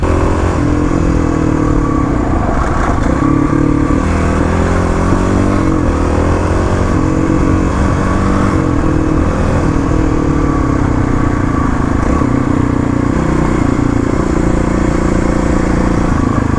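A Kawasaki KLX351 dirt bike ridden hard on gravel rally roads, its engine loud and close throughout, revving and shifting pitch as it accelerates, with rattling clatter and no talking.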